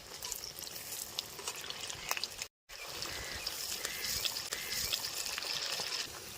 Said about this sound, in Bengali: একটু সময় নিয়ে কোপ্তাগুলো ভাজতে হবে যেন ভিতরটা অবধি মুচমুচা হয়ে যায়